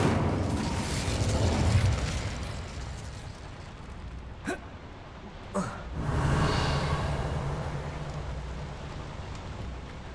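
The Incendio fire spell is cast in Hogwarts Legacy: two sharp cracks, then a rushing, crackling burst that swells and fades over a steady rain-like background hiss.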